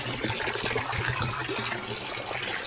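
Water pouring into a 200-litre drum for mixing liquid potash biofertilizer, a steady broadband gush with low rumble, continuous and fairly close throughout.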